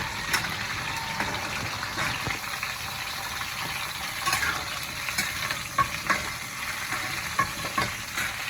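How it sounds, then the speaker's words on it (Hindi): Vegetables fry in hot oil in a home kitchen, a continuous soft sizzle broken by occasional stirring clicks and pops. "तो अब इनको जा रही हूँ मैं तेल में फ्राई करने, फ्राई कर लूंगी"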